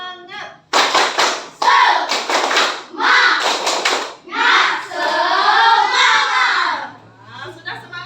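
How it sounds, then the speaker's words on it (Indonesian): A teacher and children do the Indonesian 'tepuk semangat' clapping chant, claps in a quick rhythmic pattern, bursts of sharp claps mixed with children's voices chanting along. "Tepuk semangat."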